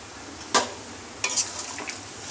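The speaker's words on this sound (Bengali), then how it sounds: "আবার একটু নাড়াচাড়া করে নেব।" Chicken masala with whisked yogurt and a little water being stirred in a pan, a few sharp spatula scrapes against the pan over a steady low sizzle.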